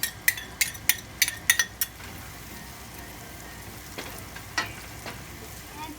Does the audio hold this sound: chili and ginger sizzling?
yes